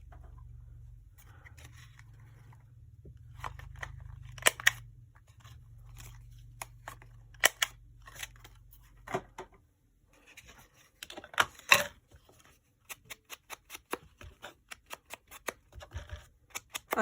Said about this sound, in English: I'm gonna round the corners of this